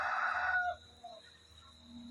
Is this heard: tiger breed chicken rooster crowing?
yes